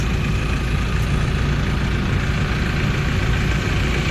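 The engine of a long-tail boat chugs steadily at low speed near Phi Phi Island in Thailand, a constant loud drone with no break and no talk.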